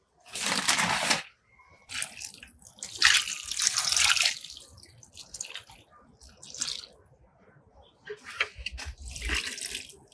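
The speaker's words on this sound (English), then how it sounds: "All right, so I'm going to water that lightly in." Water poured lightly around a newly planted blueberry bush, splashing in several separate bursts with short pauses between, close by and fairly loud, with no talking.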